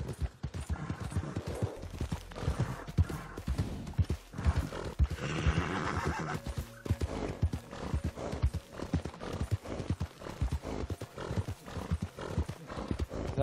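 Rapid, steady hoofbeats of a galloping horse in a video game pound close by, with a brief whinny partway through and busy background noise.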